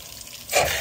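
Water leaks from an irrigation pipe, a faint trickle that swells into a brief louder splash near the end of a short moment.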